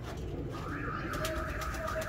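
Breeder pigeons coo softly in a short, low murmur close by, with faint background noise.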